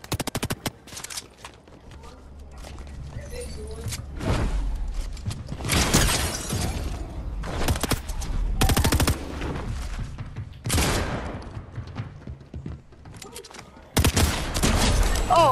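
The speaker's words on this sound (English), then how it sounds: "I don't know what an SMG is gonna do from this length away" SMG gunfire in Fortnite comes as several loud, rapid bursts separated by short pauses, with sharp impacts and a voice talking between the volleys.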